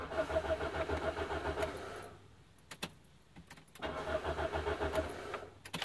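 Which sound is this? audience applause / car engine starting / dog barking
car engine starting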